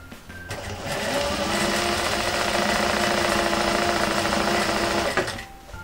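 A quilting sewing machine with a special ruler presser foot stitches steadily along the edge of a quilting ruler, a loud continuous mechanical whir that starts up, runs evenly for several seconds, then stops.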